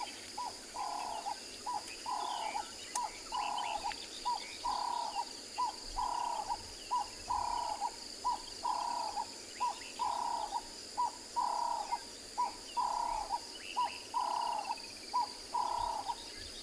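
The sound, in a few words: dove calling at sunset on safari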